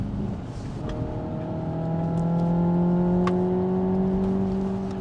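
Hyundai Ioniq 5 N electric car accelerating with simulated gearshifts, a steady rising synthetic engine-like whine and hum heard from inside the cabin, pitch climbing smoothly over several seconds.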